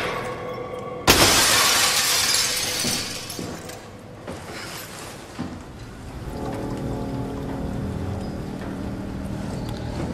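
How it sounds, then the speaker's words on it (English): Glass shatters loudly in the video game SOMA, a sharp crash followed by a long spray of tinkling debris and a low rumbling ambience, close and alone with no talk. "I need to find something to smash the glass"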